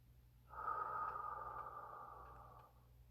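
During guided meditation, one slow, deep inhale lasts about two seconds, soft and close with a steady airy hiss.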